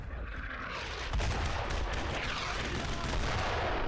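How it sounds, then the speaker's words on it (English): A heavy mortar blast booms amid steady gunfire in the World War II shooter Brothers in Arms: Road to Hill 30, with a dense, sustained rumble of shots and explosions. "Oh, I probably got hit by a mortar."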